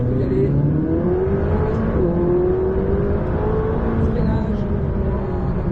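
McLaren 600LT accelerating hard on a race track at Le Luc, a loud sustained engine roar that climbs in pitch through the gears, heard from onboard, with an instructor's voice briefly under the engine.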